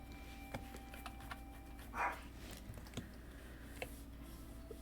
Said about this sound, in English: also sorry if you hear my dog.